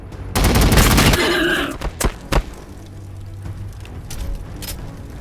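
Video game gunfire from Warhammer 40K Battlesector: a loud, dense burst of shots lasting over a second, followed by a few separate heavy thuds and a low rumbling tail.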